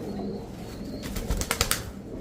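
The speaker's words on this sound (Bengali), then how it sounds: "এক সুন্দর বড় মাথার বড় সাইজের কবুতর" Big-headed, large Giribaz high-flyer pigeons being handled up close, with a few short rustling wing-flap bursts over a quiet background and no talk.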